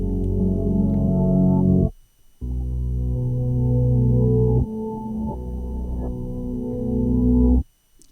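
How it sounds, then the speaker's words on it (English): Reversed piano chords taken from a track's main melody swell in two long sustained blocks with a short gap, each building to an abrupt cutoff, warm and full in a music production context. "I've also taken some of the piano chords and reversed them."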